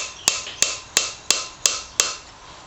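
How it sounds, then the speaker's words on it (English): A spanner taps a flywheel key on a Wolseley WD2 engine: six sharp metallic knocks at roughly even intervals, each with a brief ringing decay, close up and alone. "we'll give this another light tap. Might use the older spanner"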